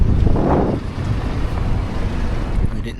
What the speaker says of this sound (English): The wind came out of nowhere.